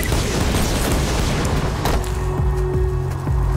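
Explosions roar in the virtual-reality shooter Borderlands 2 VR, a dense continuous rumble of booms and bursts with several heavy low thuds near the end, loud and close.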